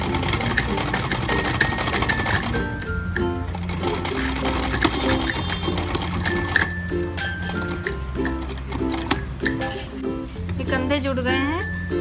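A sewing machine runs a double line of stitching on a kurti, a steady rapid mechanical whir with needle clatter and small metallic clinks, heard near and loud under a person talking.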